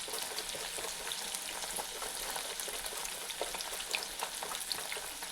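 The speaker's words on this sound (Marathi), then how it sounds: "आता मी पूर्ण हे चिप्स सगळे तळून घेते." Sliced banana chips deep-fry in hot oil, giving a dense, even crackling hiss with small popping bubbles that runs steadily throughout, near and unbroken by speech.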